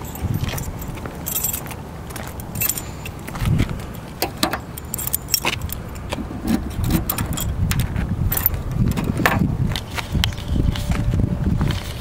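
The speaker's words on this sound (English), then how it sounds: "Need to get the keys." Car keys for a 1950 Oldsmobile Rocket 88 jangle close by in repeated bright metallic shakes, with faint movement and footsteps underneath.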